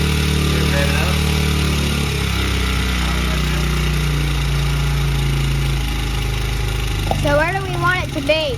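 A Honda CRF100F kids' dirt bike engine runs close by, holding a steady note that shifts as the throttle is worked. A voice joins near the end.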